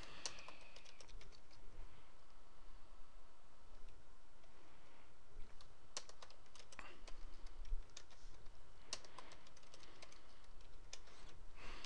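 Keys on a computer keyboard are tapped to enter a password during a Windows 8.1 installation, with soft, scattered clicks over a quiet background hum.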